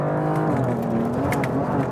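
A BMW M car's engine revs hard as it accelerates on a race track, a loud, continuous rising drone with a quick gear change partway through, heard from close by.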